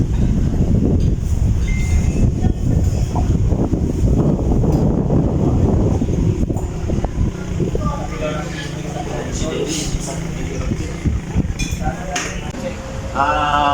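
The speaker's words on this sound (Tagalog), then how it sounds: "At medyo malakas yung hangin dito." Strong wind blows outdoors behind a church in Laurel, Batangas, a steady broadband rush buffeting the microphone throughout, with people talking over it.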